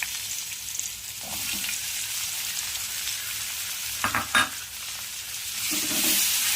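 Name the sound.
onion frying in oil with lentils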